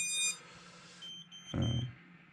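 Power-up buzzer on an FPV racing drone: a high electronic beep tone followed by a short fainter chirp and then a brief low thump, quiet and close, with no voices.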